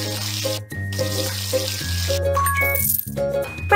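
Cartoonish water pours from a tap while hair is washed in a kids' jungle animal hair salon game, the gurgling stream mixed with bright chimes and game jingles.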